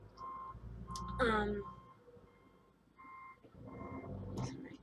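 A vehicle's reversing alarm beeps in short repeated tones in the background while a person speaks briefly nearby.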